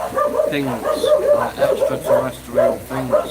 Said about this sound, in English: sorry about the dogs, guys.